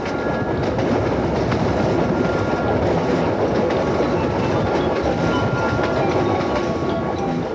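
Train running from Puno to Cusco in Peru, a steady loud roar of wheels on rails with faint clickety-clack, continuous and unbroken from start to end with no voices.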